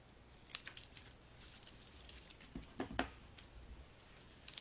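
Scissors snipping through folded origami paper along a fold line while shaping a Cosmos model: several crisp, close cuts in uneven rhythm, quiet overall with soft paper rustle between them.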